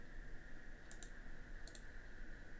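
A computer mouse clicks twice in quick succession, each a pair of sharp, close clicks, while editing bullet points in a Publisher document, over a steady electronic hum.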